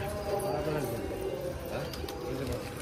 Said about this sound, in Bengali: এই দেখো সব পায়রাগুলো কিন্তু কাছে চলে আসলো